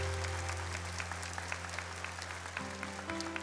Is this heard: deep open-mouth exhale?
no